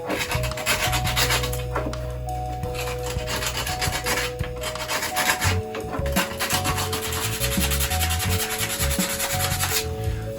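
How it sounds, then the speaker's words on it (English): Sandpaper rubs steadily back and forth over a wooden conductor's baton, taking off dried glue and filler lumps. The scratchy strokes are close and continuous, with a low hum underneath and no talk. "I'm now just going to sand this off and then we'll get on to the painting"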